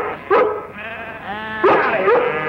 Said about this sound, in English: Leave them sheep alone!